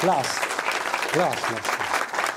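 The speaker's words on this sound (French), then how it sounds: "Petites applaudissements, ça me ferait plaisir, s'il vous plaît." A theater audience at a festival gives applause, a dense crowd clapping throughout, with a voice speaking over it.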